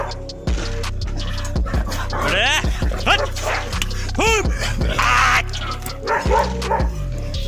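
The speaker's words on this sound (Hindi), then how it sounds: "उसके दोनों कुत्ते शेर पर भौंकना शुरू हो जाते हैं" Two dogs bark at a lion with repeated loud, close barks and sharp yips, mixed with whimpers and panting between the outbursts.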